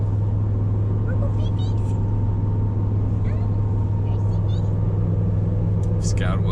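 Inside a Toyota Tundra pickup driving down the road, a loud, steady low engine and road rumble fills the cabin, with voices chatting over it.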